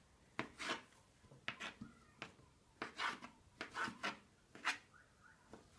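A knife cuts a thin, delicate omelette into long strips on a board, giving a series of soft, close, irregular rasping slices spaced about half a second apart.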